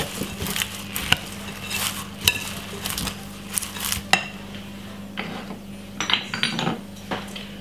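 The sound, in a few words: mixing cold rice salad ingredients in a bowl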